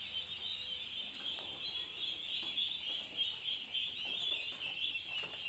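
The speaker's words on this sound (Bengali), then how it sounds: "দেখতে পাচ্ছেন হাঁসগুলো ধানের চিটার উপরে রাখা হয়েছে।" Ducklings kept on rice husks at a government duck farm, a dense, continuous chorus of high-pitched peeping from many birds close by.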